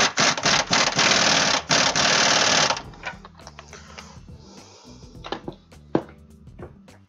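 Ratchet driving the ball joint nut tight on a car's front suspension hub: a loud, dense burst of rapid mechanical clicking for about three seconds, then scattered quieter metallic clicks and taps, close to the microphone.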